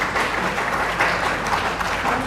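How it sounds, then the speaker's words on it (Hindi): An audience at a political gathering gives a speaker a welcoming round of applause, with dense, steady clapping throughout and no pauses. "साथियों से मेरा निवेदन है कि वो जोरदार तालियों से मैडम का स्वागत करें"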